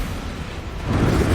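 In the Hogwarts Legacy game on Switch, an Incendio fire spell bursts out as a short, dense whoosh and roar that swells louder toward the end.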